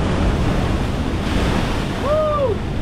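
A big ocean wave surging against lava rocks on the Hawaii coast, a loud continuous roar of surf and wind noise, with a brief high whistle-like tone near the end.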